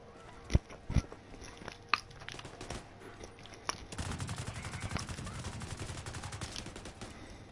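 Gunfire in The Division 2: a few sharp, separated shots ring out first, then a faster sustained burst of rapid fire takes over, fairly loud with little talk.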